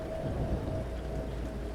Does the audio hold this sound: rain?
yes